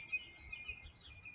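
Small birds near a backyard feeding dish chirp faintly in a few short, high tweets against a quiet outdoor background.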